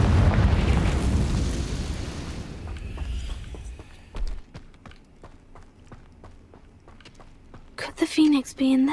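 Confringo fire spell cast in the video game Hogwarts Legacy, a series of sharp explosive bursts and thuds in rapid succession after a loud rumbling blast, with a voice speaking briefly near the end.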